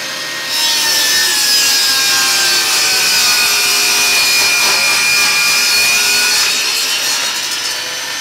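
A Tacklife table saw cuts through a large wooden board, a loud, steady whine with the blade biting continuously through the wood for several seconds after a brief start.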